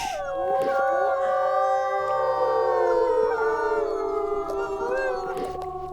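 In the video game WolfQuest, several wolves howl together in long overlapping wavering tones that rise and fall for about six seconds. The chorus is loud and sustained, with no speech.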